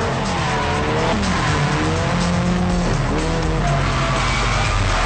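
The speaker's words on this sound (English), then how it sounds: "And Deborah, check out what happens to her spinning out right here." A race car spins out on a French track in 2007, its tires squealing and skidding continuously and loudly, layered over a droning engine.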